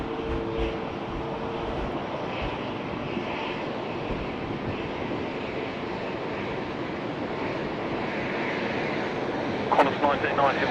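A UPS cargo plane takes off from runway 34 left at Sydney Airport, heard as a steady, broad distant roar mixed with wind buffeting the microphone, swelling slightly near the end.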